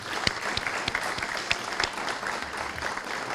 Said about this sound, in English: I'd like to join you in a round of applause for these fine young women and gentlemen.